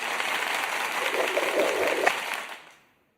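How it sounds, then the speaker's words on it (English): A short round of applause from a small audience, steady hand clapping for about two and a half seconds before fading out. "Let's give him a quick little round of applause."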